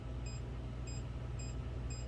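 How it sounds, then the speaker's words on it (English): Four short electronic beeps from an inverter keypad during password entry sound at an even pace over a quiet background hum, faint and close. "You should hear beeps on all of those, right?"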